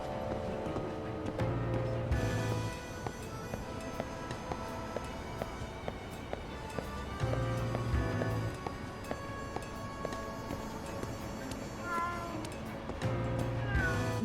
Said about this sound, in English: Why are these cats so loud?